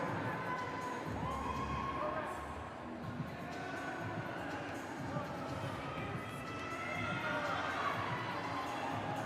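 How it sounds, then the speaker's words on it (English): Crowd noise from spectators cheering on an athlete doing single-leg squats in a heat at the 2023 CrossFit Games West Semifinals, a steady loud roar of shouts and cheers that runs under a commentator's voice. "Crowd getting behind Hannah here as she looks to finish up this next set of single leg squats."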